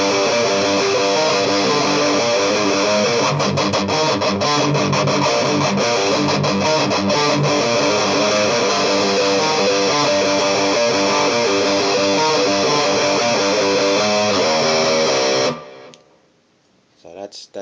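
Electric guitar chugs through a distorted intro and verse riff, loud and steady for about fifteen seconds before cutting off abruptly into near silence.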